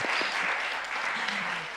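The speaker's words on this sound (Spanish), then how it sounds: "Démosles unos aplausos a todas estas juntanzas" A dense round of clapping from an audience at a conversation event on Black women and cosmovision, steady and full for under two seconds, with a faint voice underneath.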